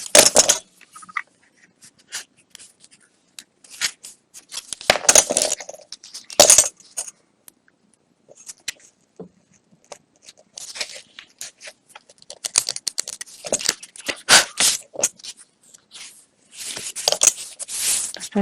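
Scissors or a blade cutting away pages of a mixed media altered book, producing scattered short snips, scrapes and paper rustles in irregular bursts with quiet gaps between them.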